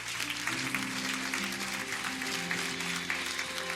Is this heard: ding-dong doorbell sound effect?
no